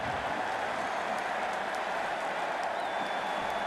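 Stadium crowd noise at a Michigan football game against Hawaii, a broad, distant roar of cheering and applause that holds steady and fairly faint throughout.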